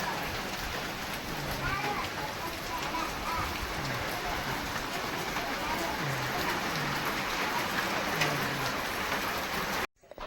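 Steady rain falls outside a home, a dense, even hiss that runs without a break at moderate loudness and stops abruptly at the very end.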